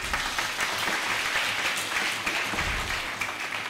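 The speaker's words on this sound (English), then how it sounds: "Can we clap our hands for her, please?" An audience at a college convocation claps for a top-performing graduate, a dense steady round of applause lasting several seconds, fairly loud and even throughout, with no speech over it.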